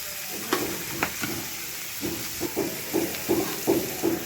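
Garlic, green chili and onion sautéing in a pan for cutlets, a steady close sizzle with a series of soft stirring scrapes and taps repeating through the second half.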